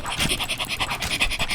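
Dog panting heavily in the Teardown video game, a fast, steady rhythm of breathy huffs, close and fairly loud, with no talk over it.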